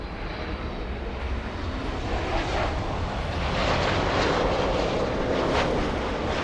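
A Transavia airliner's jet engines roar loud and continuous, a dense broadband rumble that builds slightly toward the middle and holds steady with no voices.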